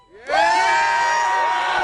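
A large outdoor crowd at a live political rally erupts into loud, sustained cheering and whooping, swelling quickly and holding steady with many voices blended together.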